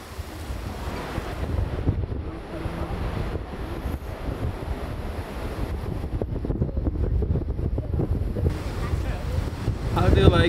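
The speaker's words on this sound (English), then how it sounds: "it is so freaking windy" Strong wind roars across the Marienbrücke, a bridge overlooking Neuschwanstein Castle in Bavaria, as steady loud gusts buffet the microphone with a broad rushing noise throughout, and crowd voices are faintly mixed in.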